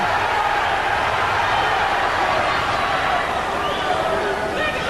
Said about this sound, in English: That brought the crowd alive.